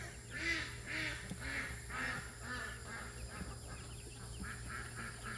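Repeated bird calls ring out about once a second over a steady low background hum, honking, fowl-like cries at moderate distance in an outdoor garden setting.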